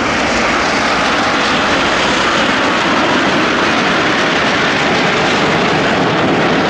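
Frecce Tricolori jets performing aerobatics at the Marina di Massa air show, a loud continuous roar of jet engines that fills the whole span without a break, close overhead.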